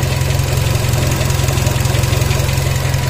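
A neglected Nissan Almera car engine idles steadily up close, with a loud, even, low rhythmic throb and no talk over it.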